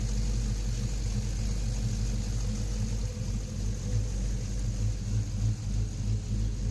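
A swapped LS V8 engine in a 2009 Jeep Liberty fitted with a 2000-stall torque converter, idling with a steady low rumble and slight fluctuations, close and continuous, no talk.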